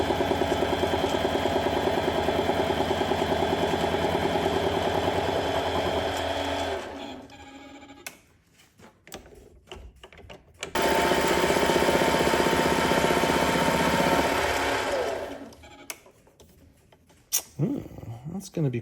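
A machine cuts a channel into a spinning coin ring, giving a loud, steady mechanical whir that runs for about seven seconds, stops briefly, then runs again for about five seconds before winding down to quiet.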